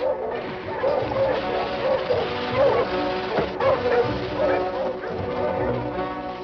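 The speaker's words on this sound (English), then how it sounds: "Larson, Warner, help me harness my dogs." Several sled dogs bark, yip and whimper continuously in a snowy outdoor scene, a busy overlapping chorus at moderate distance.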